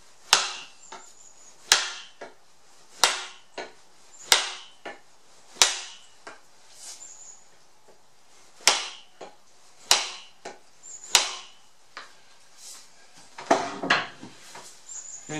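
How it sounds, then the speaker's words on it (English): A rubber mallet knocks an axe head down onto its wooden handle, a dozen or so sharp, distinct taps spaced about a second apart, close and dry in a quiet room. "take a rubber mallet of some sort"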